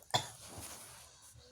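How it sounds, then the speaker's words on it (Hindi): A single sharp cough from a woman, brief and fairly close, followed by a faint quiet tail. "खांसी बहुत तेजी से आ रही है।"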